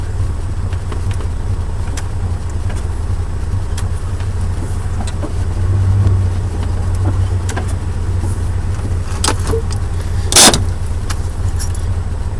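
Datsun 240z crawling through heavy traffic, heard from inside as a steady low engine and road rumble with scattered light clicks and a brief sharp rattle near the end; no one speaks.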